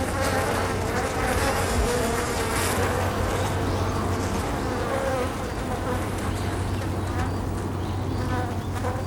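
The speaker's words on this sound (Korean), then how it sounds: "날개 소리를 듣자마자 몸을 흔들고 날개를 펄럭이며 소리를 내어 적을 위협합니다" Japanese honeybees shaking their bodies and flapping their wings at a hive entrance to threaten a hornet, a dense continuous buzzing hum that stays steady and loud throughout with no talk.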